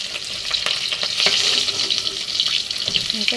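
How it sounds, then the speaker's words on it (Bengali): Snakehead fish pieces fry in hot oil, a loud close crackling sizzle with bursts of popping spatter and occasional stirring, no voices. "আমি শোল মাছটা ভেজে নিচ্ছি"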